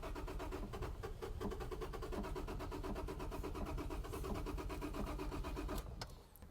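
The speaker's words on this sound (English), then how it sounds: "you can still move it around as long as you've got some battery juice by just starting it in gear." A manual car's starter motor cranks steadily with the car left in gear, a continuous loud churning with rapid regular pulses for about six seconds before cutting off abruptly.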